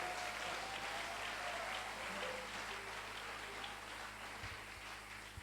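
Church congregation applauding a music group at a Sunday service, heard as sustained, dense clapping from many hands that keeps an even level throughout.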